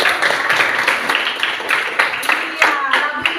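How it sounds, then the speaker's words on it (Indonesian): A class claps hands together during a Christian religion lesson in an Indonesian sixth-grade classroom. The sharp, fairly rhythmic claps run steadily throughout, mixed with children's voices. "tepuk tangan dulu."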